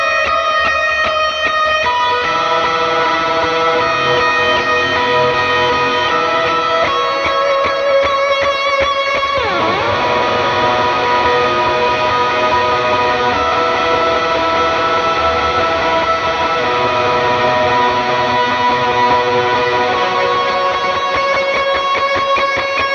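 Electric guitar playing a lead line of a worship song, strings bent slightly out of tune, then a rhythm part layered on top; a continuous, effects-heavy wash with echo and chorus, steady and loud throughout with no talking.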